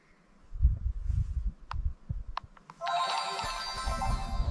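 A telephone ringtone starts partway through, an electronic melodic ring that continues to the end, following a stretch of knocks and handling noise.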